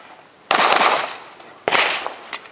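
Two sharp, loud gunshots ring out about a second apart at an IDPA pistol match stage in Port Malabar, Florida, each a sudden crack trailing into a brief echoing decay outdoors.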